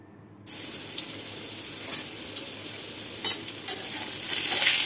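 Pumpkin pieces frying in a pan for a vegetable sabzi, bursting into a loud close sizzle after a brief quiet start, with scraping stirring clatters over the hiss that grows louder toward the end.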